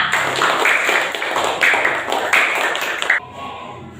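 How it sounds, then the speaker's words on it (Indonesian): A classroom of students applauds together in a lesson, giving steady, close, fairly loud clapping for about three seconds before it stops abruptly, leaving a quiet room. "Kasih tepuk tangan untuk kita semua."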